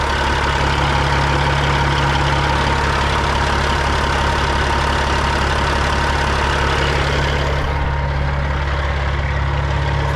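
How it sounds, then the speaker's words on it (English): An idling truck engine with a suspected metal-on-metal tapping fault, a loud, steady low rumble running throughout with a faint repetitive ticking texture woven into the drone. "Like a tapping noise."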